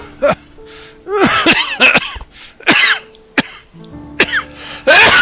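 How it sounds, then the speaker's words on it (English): A video game character in Soul Gambler coughs and clears his throat repeatedly in loud, close, ragged bursts, with brief pauses between fits. "He's coughing some more"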